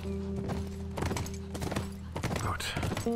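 Rhythmic clip-clop of horse hooves trotting steadily in the video game The Last of Us Remastered, over a background musical drone, with a brief whinny-like tone near the end.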